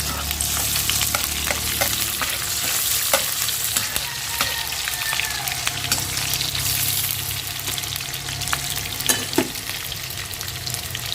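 Chopped onions and vegetables fry loudly in a pan, a dense continuous sizzle with scattered scrapes and clicks of a utensil mixing them, close and unbroken throughout.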